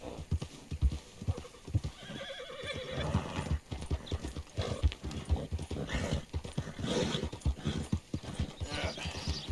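A horse's hooves clip-clop at a brisk pace in the video game Red Dead Redemption 2, a busy rhythmic stream of close thuds, with a whinny partway through.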